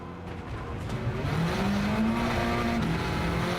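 Race car engine in a sim racing game driven on a Fanatec GT DD Pro wheel, a steady loud drone with pitch climbing under acceleration, tire noise mixed in, no talk.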